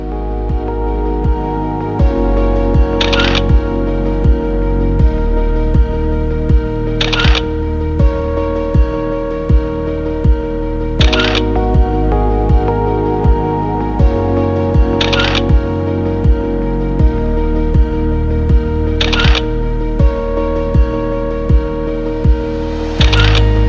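Camera shutter clicks repeated at steady intervals of about four seconds during a snowy mountain hike, each click crisp and brief, laid over a constant loud droning background.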